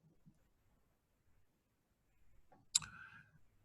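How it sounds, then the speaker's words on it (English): A single computer mouse click lands near the end, sharp and close, with faint ticks and low room noise around it, during a Mac software installation. "we click on Cloudpath here"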